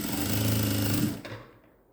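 A sewing machine stitches a newborn baby's gown in a short, loud, rumbling run at close range. It slows and fades away after about a second.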